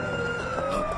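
An ambulance siren wails steadily and loudly through the whole second, its high tone sliding gently, with no talking over it.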